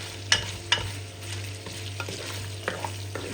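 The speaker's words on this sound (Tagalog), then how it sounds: "ingat-ingat na kasi yung mantika tumatalsik" Hot oil sizzles and spits as meat browns in a pan for adobo, with a few sharp pops and occasional stirring scrapes over a continuous frying hiss.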